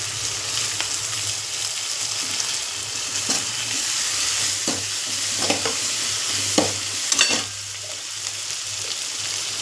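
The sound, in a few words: soya and tomato frying and being stirred in pan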